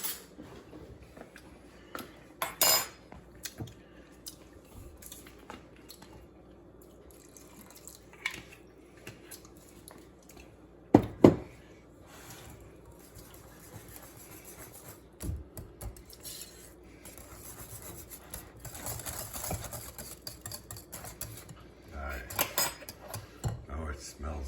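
A spoon clinks and scrapes against a dish while thick creamy balsamic vinaigrette is stirred, a few scattered faint metallic taps and clatters over a quiet kitchen, with people talking.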